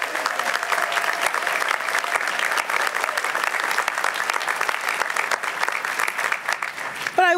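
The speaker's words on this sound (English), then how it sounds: "Round of applause for our graduates." A crowd at a graduation ceremony gives the graduates sustained, loud, dense applause that stays steady for several seconds, with faint voices mixed into the clapping.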